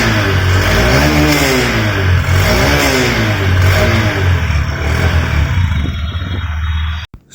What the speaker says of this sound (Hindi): पर एक बार मैं आपको सुना देता हूँ ऐसे एग्जॉस्ट साउंड.